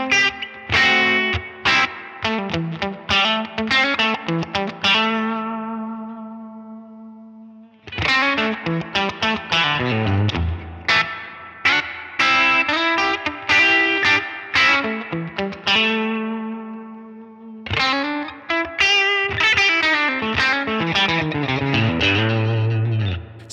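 Electric guitar played through a big Line 6 Helix reverb setting, chords and melodic phrases ringing out with lush, spacious tails and a chorus-like shimmer, loud and close with no talking.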